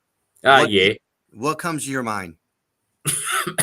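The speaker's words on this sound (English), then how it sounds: "The cough, I mean." A single sharp cough breaks in during a casual spoken conversation. Short talk follows around it.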